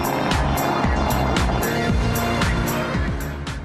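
Audi S6 sedan engine revving hard through repeated rising gear pulls, loud and close, with a rhythmic climb-and-drop pattern as it accelerates.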